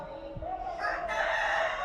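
Chickens in a poultry shed, a rooster crowing close by with some clucking, loud and brief.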